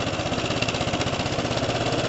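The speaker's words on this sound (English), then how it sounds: "Let's fire this thing up. Let's make sure it starts." A motorcycle or scooter engine idles in a quick, even putter, steady and close throughout with no voices.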